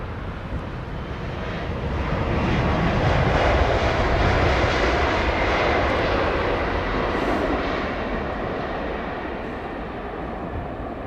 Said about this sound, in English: This is Gulf Air's Dreamliner.